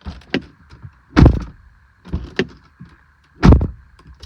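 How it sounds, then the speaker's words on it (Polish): A 2017/18 Skoda Superb L&K's door is opened and shut twice up close, each time with a light latch click and then a heavy, hollow thunk, over a faint steady hum. "dźwięk zamykanych drzwi jest taki typowy dla Skody, taki troszeczkę pustawy"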